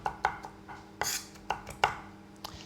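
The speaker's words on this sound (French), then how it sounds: "Alors je hache pas trop menu, hein." A knife chops a caper butter mixture coarsely on a board: a handful of sharp, separate thuds and knocks at an uneven pace, close and clear, with no talking.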